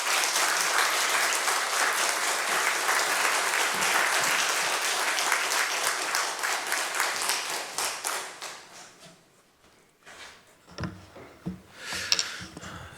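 A church congregation bursts into loud, sustained applause to welcome the pastor, a preaching instructor, then the clapping thins out into scattered claps and fades toward the end.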